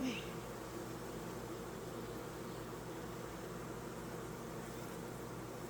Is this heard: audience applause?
no